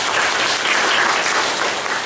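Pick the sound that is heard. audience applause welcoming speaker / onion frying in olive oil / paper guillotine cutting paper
audience applause welcoming speaker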